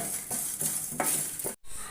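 A lump of asafoetida roasts in a pan for sambar, with a low sizzle under several scraping strokes of a spoon against the pan and a brief cut near the end.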